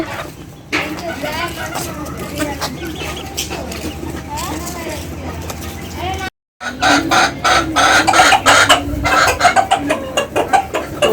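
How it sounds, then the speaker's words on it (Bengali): Chickens and roosters clucking and calling near a home, busy and continuous with car noise and a brief dropout midway, while people talk throughout. "সেই মুরগি মোরগগুলো এখন কত বড় হয়েছে"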